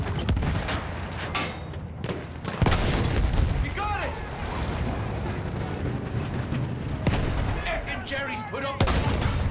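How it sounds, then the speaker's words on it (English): Field gun and artillery fire in the video game Battlefield 1, with heavy booms and rumbling blasts over a dense battle din, as voices call out amid the fighting. "Their artillery's holed up there. Field gun, flatten it."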